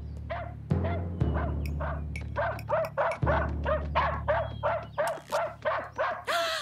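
A dog barks repeatedly in a steady rhythm, about a dozen sharp yaps close by over a low humming background.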